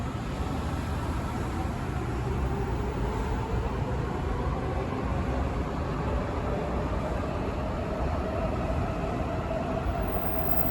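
Washington DC Metro train running, a steady low rumble and broad rushing noise that stays even and continuous, without any talking.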